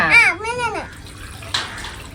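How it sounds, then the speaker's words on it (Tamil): Water is poured, starting as a soft, steady splashing rush after a brief high-pitched voice at the start, continuing moderately loud to the end. "தண்ணி ஊற்றிடலாமா"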